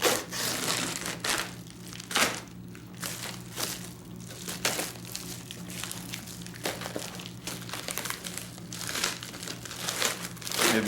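Sealed cardboard packaging holding a Cold Steel 12-inch stiletto knife is pried open, giving steady crinkling and crushing rustles with sharper cracks and tears, close and fairly loud throughout, with no talking.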